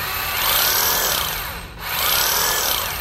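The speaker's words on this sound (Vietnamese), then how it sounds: "Cái đây là khoan búa." A Makita 24V cordless hammer drill, model EZ6813, runs in two close, loud bursts of buzzing, rattling hammer action, briefly dipping between them before surging again.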